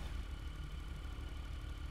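A Vortex motorcycle in GTA V Online idles steadily nearby, a continuous low engine rumble with no other sounds.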